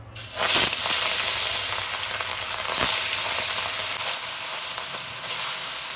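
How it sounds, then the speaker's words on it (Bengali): Rohu fish fries in hot oil in a wok, giving a loud, close crackling sizzle that swells as the pieces settle, with brief bursts of spattering and no talk. "তেল গরম হয়ে গেছে এবার মাছটা দিয়ে দেবো"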